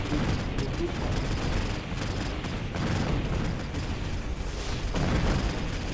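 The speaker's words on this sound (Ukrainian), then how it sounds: "Там стріляють." Dense, continuous gunfire and explosions from the video game Mechabellum, rapid overlapping bursts and booms filling the whole stretch at steady loudness.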